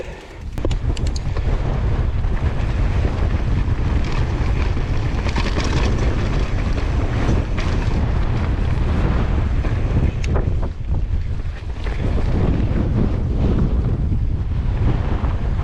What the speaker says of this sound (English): So windy, so windy.